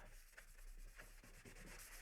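Quiet, close rubbing strokes of a sanding block on PVC pipe, a few rhythmic back-and-forth passes over a steady low hum.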